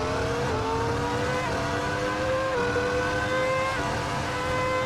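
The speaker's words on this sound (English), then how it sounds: "Let's get out of the pit lane here on default setup for our first run here in the F2004" A Ferrari F2004 Formula 1 car in a racing video game pulls out of the Monza pit lane. The loud, steady high-pitched engine whine holds on throughout, with small pitch shifts as it runs up through the gears.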